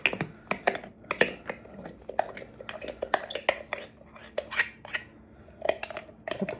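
A spoon clinks and scrapes against a bowl in quick, irregular taps while sour cream is stirred in, close and fairly quiet, with a faint steady hum underneath.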